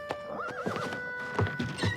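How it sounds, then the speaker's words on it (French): An agitated horse neighs in a loud, wavering whinny, followed by heavy hoof clops on the ground, close and clear with no talking. "Mauvaise idée, c'est un cheval très agité"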